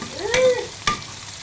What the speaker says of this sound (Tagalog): gisa-gisahin natin hanggang sa medyo maluto yung ating mushroom